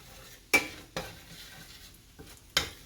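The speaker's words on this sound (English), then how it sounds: "We're going to add in our flour a little at a time." A spoon stirs flour into melted butter for a roux, giving a few separate scraping strokes against the pan with quiet frying underneath between them.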